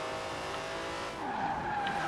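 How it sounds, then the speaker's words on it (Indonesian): Tires of a 90-year-old racing car skid and squeal in the Forza Horizon racing game, a steady engine drone with a rising screech near the end, fairly quiet and with no talk. "That's a 90-year-old racing car."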